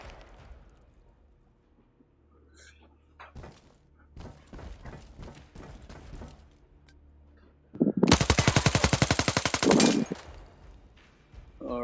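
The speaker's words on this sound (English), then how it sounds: "This gun's pretty sweet, though." Gunfire from a gun in the VR game Zero Caliber: scattered clicks and clatter, then a loud sustained burst of rapid automatic shots lasting about two seconds, followed by quieter handling sounds.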